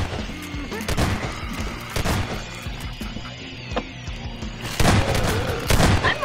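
Bursts of gunfire and booming blasts in the sandbox game Garry's Mod, with heavy volleys of shots that rise and fall and grow louder near the end, over a low game background.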